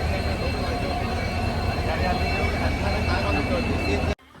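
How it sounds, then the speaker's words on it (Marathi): A train pulling into a station on a Konkan trip: a steady, loud rumble of rolling wheels and carriages fills the scene, a broad continuous roar that cuts off abruptly near the end. "ट्रेन आली."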